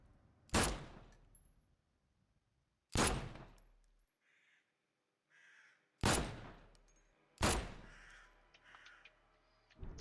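Gunshots from the video game The Sinking City ring out as four loud, sharp cracks spaced a few seconds apart. Each one leaves a short echoing tail, with near silence and faint noises in between.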